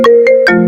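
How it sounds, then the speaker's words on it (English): An iPhone ringtone plays loud and close: a quick run of three bright synthesized marimba-like notes, alone with no other sounds. "the iPhone ringtone is 141 BPM"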